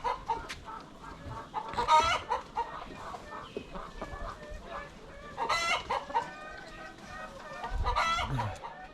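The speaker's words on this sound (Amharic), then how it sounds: "እናንተ ዶሮዎች ዝም አትበሉ።" Several chickens cluck and squawk nearby in irregular bursts on a poultry farm, with a rooster-like call mixed in, against a quiet farmyard background.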